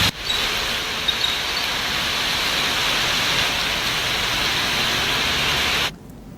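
Steady, continuous heavy rain in Dehradun forms a dense, even hiss close by that runs unbroken for several seconds and then cuts off abruptly, with no voices.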